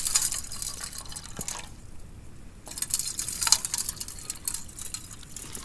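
Water is poured into a cooking pot on an icy mountain, a steady hissing splash that pauses briefly, then resumes with gurgling drips, close and alone without talking.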